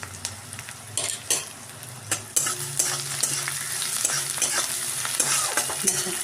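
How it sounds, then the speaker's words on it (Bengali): Onions sizzle and fry in ghee with cardamom, cinnamon, cumin, bay leaf and a spoon of sugar, a steady close crackle broken by several sharp spoon stirs and scrapes against the pan. "পেঁয়াজটা ভাজা হয়ে গেছে"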